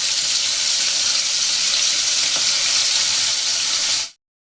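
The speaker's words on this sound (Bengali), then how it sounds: "এখানে তেল দিয়ে দিয়েছি কড়াইয়ে, দিয়ে দিলাম একটা পেঁয়াজ" Onion hits hot oil in a wok and sets off a loud, even hiss of frying that holds steady without a break, then stops abruptly.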